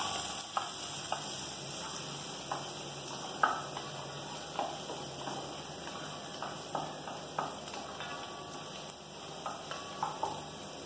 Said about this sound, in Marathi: आधी नुसता परतून घ्यायचा तेलामध्ये.